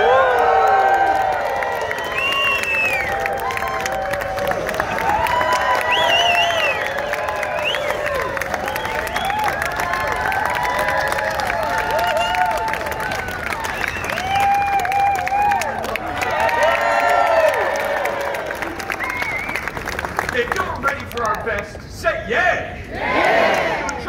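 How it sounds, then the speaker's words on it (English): A large outdoor crowd at a Boston street show cheers, whoops and applauds loudly and continuously, with shouts and yells rising over dense clapping for about twenty seconds before it begins to break up near the end. "If we pull this off, give us a real Boston round of applause."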